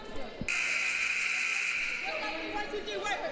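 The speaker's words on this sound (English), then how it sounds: "So there's the buzzer to get back to play" A loud, sustained electronic buzzer blares for a couple of seconds over crowd noise and talking at a high school basketball game.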